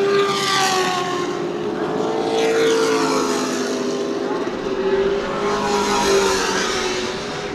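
Pro late model race cars at New Smyrna Speedway roar down to the line, loud engines rising and falling as they pass close, with a commentator talking over the steady racing drone.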